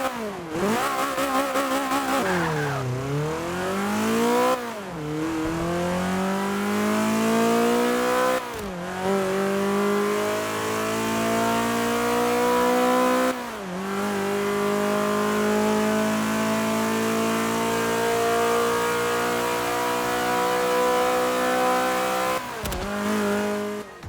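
Forza 5 race car engines scream on a track, revving up steadily through the gears with sharp drops at each shift, loud and close for a long continuous run.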